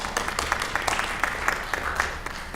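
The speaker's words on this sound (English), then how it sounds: "Yeah, clap for that." An audience at a small-group summary session of the HoFT 2017 gathering claps steadily for a few seconds, the applause close and fairly loud, with faint voices mixed in.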